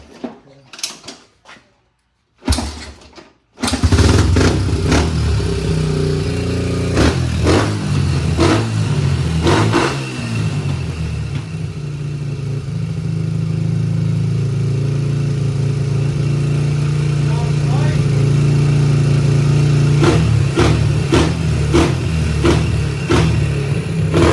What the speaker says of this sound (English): Guess we'll see here if it'll fire back up.